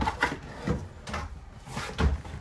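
A few short wooden slides and knocks, like a drawer pulled open and pushed shut inside an RV, close by with no talking.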